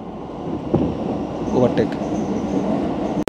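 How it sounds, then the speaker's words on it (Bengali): A Japanese train overtaking another at a station, heard as a loud, continuous rumble of rolling rail cars with faint wheel squeals in the middle. "এই যেখানে ট্রেন দাঁড়ালো না, এবার হবে ওভারটেক।"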